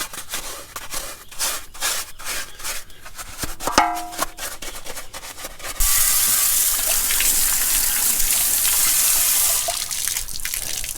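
A garden hose rinses a tractor transmission case with a steady broadband water spray. Scraping and rubbing come first, then a loud, continuous gush starts partway through and holds to the end.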